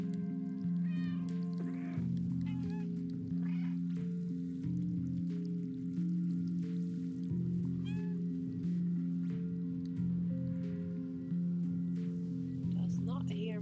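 A person imitates a cat with several short, drawn-out meows scattered across the clip, sounding over a steady low droning hum.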